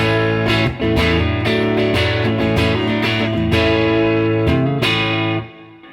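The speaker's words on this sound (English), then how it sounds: "Just hear the introduction of some distortion." A distorted electric guitar plays a sustained lick through a Laney LC30 mk1 amp, thick and buzzing, notes ringing loudly before fading out at the end.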